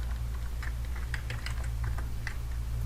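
Someone types a command in Kali Linux on a computer keyboard, giving a quick run of light, close key clicks over a steady low background hum, with no talk.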